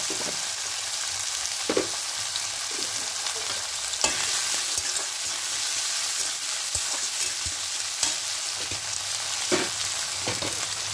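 Chopped tomato, onion and green chili sizzle steadily in hot oil in a pan, a dense continuous frying hiss with occasional louder crackles and spatula scrapes, no talking.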